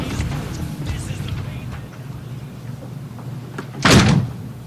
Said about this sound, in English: slammed the door and walked out